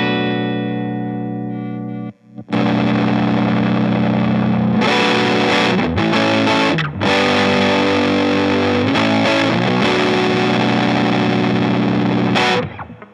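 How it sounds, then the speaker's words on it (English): Big Muff Wicker fuzz pedal on a Sheraton guitar with the rhythm pickup selected, miked at the amp: thick, loud, sustained fuzzy chords after a quiet opening note, with short gaps between strums. "I got my Sheraton with the rhythm pickup selected, and let's go ahead and hear how this sounds."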